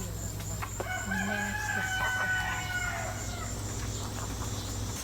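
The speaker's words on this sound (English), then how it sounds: "These three young roosters here are" Young roosters crow in a few drawn-out calls at moderate distance over a steady background hum.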